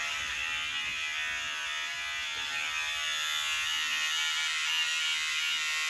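Electric clippers run steadily while shaving down hair on a person's head, giving a continuous close, bright buzzing hum that stays even throughout without any speech.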